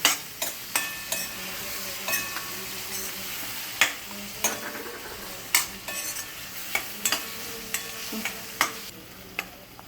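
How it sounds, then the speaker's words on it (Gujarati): A spoon stirs homemade gravy into boiled vegetables for a Jain veg Hyderabadi biryani, giving repeated close scraping and clinking strokes against the pot over a soft frying hiss, with no talk. "સબ્જી બોઇલ થયા બાદ આપણે જે આ ગ્રેવી બનાવી છે એ બધી એડ કરી દેવાની છે"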